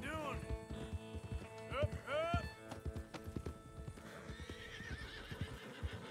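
Horses in Red Dead Redemption II are herded into the open, with several loud neighs and whinnies over steady clip-clopping hooves, mixed with a voice talking throughout.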